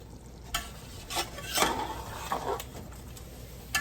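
A steel spoon scrapes and clanks around a silver pot of chicken biryani in a few separate stirring strokes. A soft sizzle sits underneath, close up and moderately quiet, with no talking.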